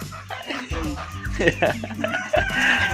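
Rhode Island Red breeder chickens on a farm cluck while a rooster crows, close and loud, with people talking and a dog barking in the background.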